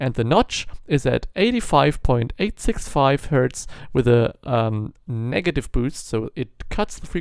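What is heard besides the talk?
No everyday noise stands out behind the speech.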